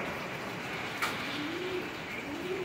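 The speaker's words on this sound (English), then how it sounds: "I'm gonna go check on the birds." Pigeons coo in their loft as a hurricane approaches, soft repeated rolling calls close by over a steady rush of wind and background noise.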